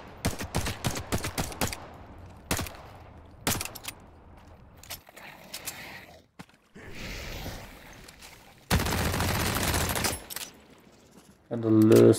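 Bursts of SMG and pistol gunfire in the video game The Cycle Frontier, with rapid volleys of sharp shots early on, scattered single reports, and a dense loud stretch of firing near the end.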